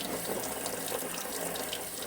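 Hands being rinsed under a running kitchen tap while canning pizza sauce, a steady close splash of water into the sink throughout with no talk.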